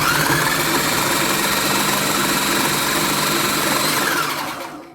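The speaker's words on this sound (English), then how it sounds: "start with your tofu and give that a little bit of a whiz" A blender whizzes tofu into crumbs, a loud, steady motorized whir that runs continuously for several seconds before winding down at the end, with no talk.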